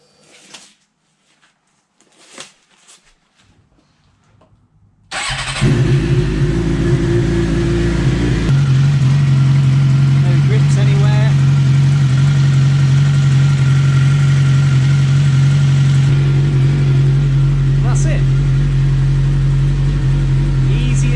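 A motorbike engine fires up after new-bike maintenance. Quiet handling noises come first, then a sudden loud start that settles into a steady, close idle that continues to the end.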